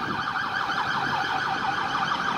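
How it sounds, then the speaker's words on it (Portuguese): An ambulance siren wails through a noisy metropolitan street, its rising and falling sweeps repeating steadily and loud over the traffic hum. "Uma ambulância."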